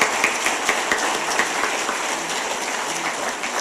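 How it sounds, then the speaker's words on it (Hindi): A gathered audience at a political speech in India claps at a request, with a steady wash of applause and a few sharper individual claps standing out near the start. "जोर से ताली बजाओ"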